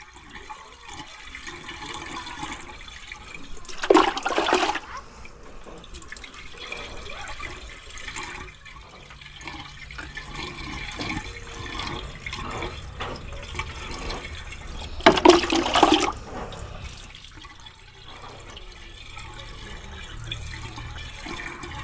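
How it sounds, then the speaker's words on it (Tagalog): Water rushes into a newly installed toilet, a steady hiss and trickle of filling with two louder surging gushes, heard alone without talk. "kakarga na tayo ng tubig para masubukan na"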